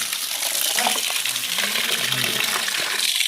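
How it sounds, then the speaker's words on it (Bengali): Raw chicken pieces being washed in water, a steady splashing and rinsing wash of running, sloshing water with faint clinks, close and continuous without talk. "পরপর 2 থেকে 3 বার ধুবো চিকেনগুলো"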